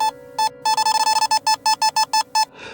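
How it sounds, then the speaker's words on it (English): A series of sharp electronic beeps from an EMF meter, short and repeated in quick irregular bursts, close and clear over a quiet hum. "I got a few beeps on my EMF."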